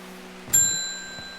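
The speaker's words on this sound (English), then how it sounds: "I like sometimes when you ring the bell, the cat gets very disturbed" A single bright bell ding from the video game Strange Horticulture, struck once with a sharp attack and a clear ringing tone that decays slowly over a second, heard alone over a faint background hum.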